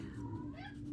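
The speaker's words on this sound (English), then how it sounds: "He meows so loud." A cat meows loudly in a single drawn-out, wavering cry, close and clear over a low background hum.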